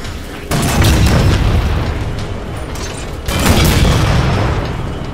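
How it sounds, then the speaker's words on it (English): A vehicle's main cannon fires in the Halo video game, producing two heavy booming blasts with rumbling explosions that roll on loudly between them. "Firing main cannon."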